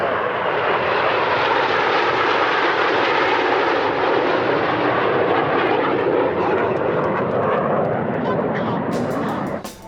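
RAF Red Arrows jets roaring overhead in formation at the 2019 MCAS Miramar air show, a loud, sustained broadband engine rush that swells and holds for the whole stretch, with commentary talking over it.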